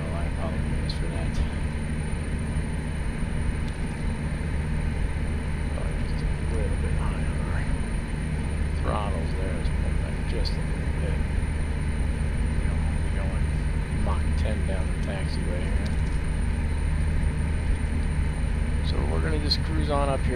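An airliner taxis in a flight simulator game, its engines producing a continuous loud drone with steady low rumble and high whine throughout, and faint clicks and ambient cockpit noise on top.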